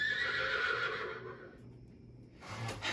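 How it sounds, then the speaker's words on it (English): A horse clock chimes with a recorded neighing horse, a loud whinny that tapers off, followed by a brief pause and then a clip-clop of hooves. "there's the horse clock again"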